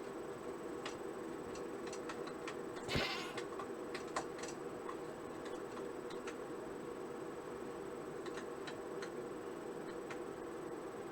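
Goat bleating in the Minecraft video game: a single brief bleat rises over a quiet ambient game background with faint ticking, and no one talks.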